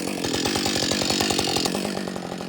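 ECHO CS 620P or Husqvarna 562XP chainsaw cutting while felling small timber, a loud, steady buzzing engine drone held close throughout with no talk.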